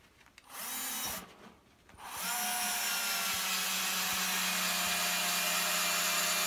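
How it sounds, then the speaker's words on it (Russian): A power drill drives a hardened 5 x 80 mm wood screw into a wooden block, first in a short whirring burst, then, after a pause, in a long, steady, loud motor whine with no talk. "Вот, закрутили его в этот брусок."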